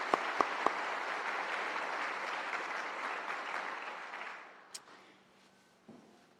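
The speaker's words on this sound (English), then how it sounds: "Let's give them a round of applause." Sustained applause from an audience at a police recruit class graduation ceremony for the Columbus Division of Police, steady for about four seconds before fading out, with a few sharp claps near the start.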